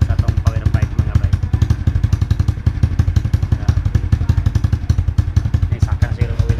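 A Raider 150 motorcycle with a power pipe exhaust and a 54mm stock canister runs close and loud. Its rapid, steady chugging pulse carries on without pause throughout.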